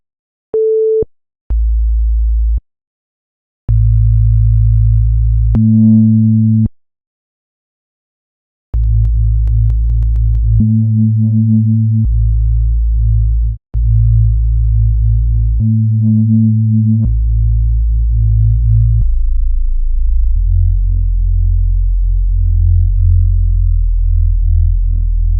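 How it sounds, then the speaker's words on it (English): Deep synth bass patch built in the Serum plugin, playing loud sustained low notes in a stop-start riff with short gaps, a higher blip at the start and a buzzier held tone to finish. "I do a lot of sound design and I make a lot of basses in Serum"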